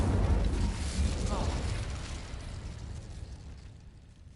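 Incendio fire spell cast in Hogwarts Legacy, a loud fiery whoosh and burst that roars at the start and fades gradually over a few seconds.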